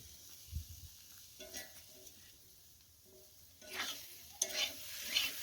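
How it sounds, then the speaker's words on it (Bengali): Fish, including pona and tilapia, frying in a pan over a wood-fired clay stove in a village setting, with a quiet, crackling sizzle and soft scraping stirs that grow louder in bursts near the end. "ভাজা হচ্ছে ভাজা প্রায় শেষের দিকে"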